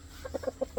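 A roundhead x Gilmore breeding rooster gives a quick series of about five short, close clucks over a faint background.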